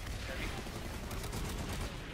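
Dense, rapid gunfire rattles through an in-game firefight during a point capture at Xelas West Air Dock, a continuous barrage of shots with voices faintly mixed in.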